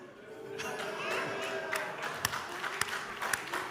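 An audience at a comedy stage show claps, a faint, dense patter of applause from a crowd, with a few sharper individual claps standing out near the end.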